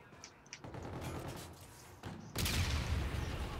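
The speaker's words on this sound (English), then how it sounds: "Maybe I was shooting at my own dude the whole time." Gunfire from the video game Call of Duty: Infinite Warfare during a multiplayer match. Quiet, rapid bursts of shots crackle for a few seconds, then a louder, denser barrage fills the final second.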